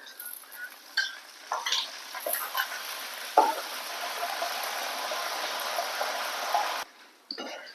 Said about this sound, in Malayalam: ഉപ്പിന്റെ വെള്ളം ഒഴിച്ചു കൊടുക്കുക കേട്ടോ